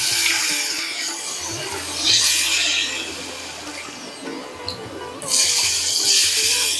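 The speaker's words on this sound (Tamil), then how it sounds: "ஸோ 1 டம்ளர் குதிரைவாளி அரிசிக்கு 3 டம்ளர் தண்ணி எடுத்துக்கிறேன்." Water poured into a pot while cooking barnyard millet and moong dal kichadi: close splashing gushes come in bursts, with softer trickling and kitchen clatter between them.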